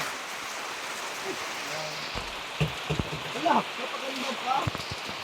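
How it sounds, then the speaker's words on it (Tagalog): Sudden steady rain after heat patters in a continuous wash in Bicol, with a few indistinct voices and scattered knocks and thuds rising over it. "Grabe, kanina ang init, biglang umulan."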